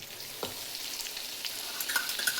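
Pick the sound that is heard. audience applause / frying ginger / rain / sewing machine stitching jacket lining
frying ginger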